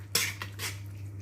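Quick metal spoon scrapes and clinks against a pan as chili chicken is mixed with tomato sauce, two or three brief strokes over a low steady hum.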